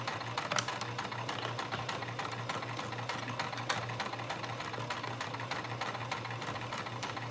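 A sewing machine runs steadily while back stitching, its needle mechanism producing a fast, even mechanical chatter with a constant hum, close and moderately quiet, without talk.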